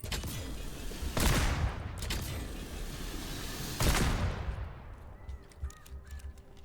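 The Judgment shotgun fires in Witchfire: two loud, close blasts about three seconds apart, each with a short rumbling tail, over faint background game sounds.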